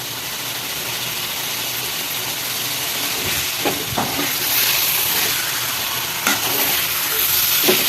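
Curry leaves dropped into a hot pan for chicken sukka, a loud broad hiss and sputter of frying oil that swells and stays steady, with a couple of faint clinks, close by.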